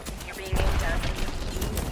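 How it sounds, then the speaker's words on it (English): Gunfire aimed at the player in the video game Apex Legends: a burst of rapid shots erupts midway and continues as a loud, rattling fusillade, with a voice speaking in the mix. "They spotted me. I'm taking shots."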